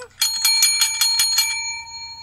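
A bicycle bell rings in a quick run of about seven bright, metallic dings, close and loud, then leaves a fading ring behind.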